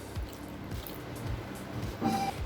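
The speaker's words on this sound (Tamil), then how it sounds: "இன்னும் ஒரு 1/2 கப் தண்ணி சேர்த்துக்கலாங்க." Water is poured into a wheat and rice flour adai dosa batter and stirred in, giving soft wet squishes and drips up close, with a brief brighter splash near the end.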